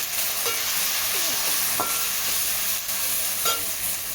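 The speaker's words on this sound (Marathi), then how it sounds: "आपले मसाले परतले." Whole spices (cumin, cloves, cinnamon, cardamom) with chopped mint and garam masala sautéing in a pan for tur dal aamti, a steady close sizzle and hiss with occasional stirring scrapes and no talk.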